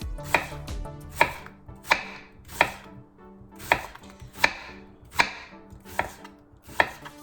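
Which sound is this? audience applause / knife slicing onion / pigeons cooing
knife slicing onion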